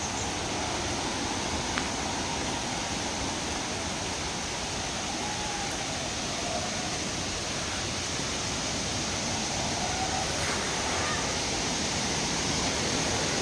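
A hidden waterfall in Karbi Anglong, Assam, gives off a steady, dense rushing roar of falling water, close and constant throughout with no pauses.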